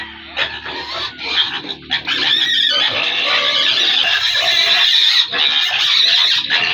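Pigs squeal and oink loudly and close by in a continuous, agitated chorus of shrill cries and grunts, during flooding around the Agusan Marsh.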